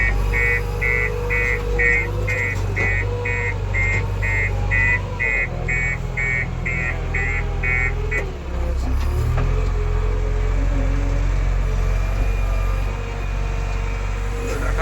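A JCB 3DX backhoe loader's diesel engine runs steadily and loud close by, with a deep continuous drone and a brief dip partway through, plus a repeating high beeping alarm in the first half.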